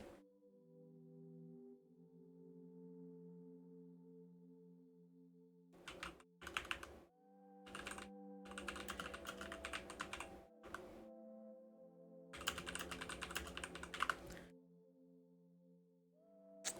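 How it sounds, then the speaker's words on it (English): Fingers type on a computer keyboard in short bursts of rapid clicking, separated by pauses where steady electronic background tones from a game continue; the keystrokes are close and crisp, and no one speaks. "I'm actually just typing in Discord."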